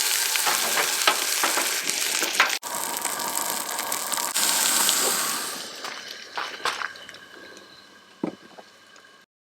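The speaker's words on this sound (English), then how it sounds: "Just pan fry it on both sides." Field burgers sizzle loudly as they pan fry in hot oil at a woodland campsite, a dense crackling hiss with occasional stirring scrapes, thinning and quieting toward the end.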